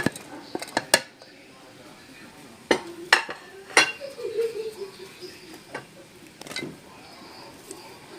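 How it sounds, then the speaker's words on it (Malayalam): Chopped vegetables for a pigeon-pea curry are tipped into a pressure cooker, giving sparse, fairly quiet clinks and metallic knocks separated by short pauses. "ഇനി നമുക്കിതെല്ലാം കുക്കറിലിട്ടിട്ട് ഇതെല്ലാം മിക്സ് ചെയ്തിട്ട്"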